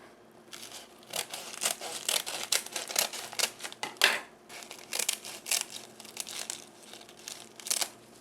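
Sheets of dried laver (gim) are cut into pieces for mini kimbap, making a quiet run of crisp, crackly snips and crinkles in an irregular rhythm, close by and otherwise alone.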